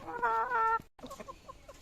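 A laying hen recovering from laying soft-shelled eggs lets out a drawn, nasal squawk, pauses briefly, then follows with a few soft, quick clucks, close by.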